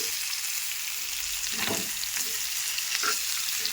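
Fish fries in a pan with curry leaves, a steady bright sizzle broken by a few louder bursts as the pieces are turned, close and continuous with no talking.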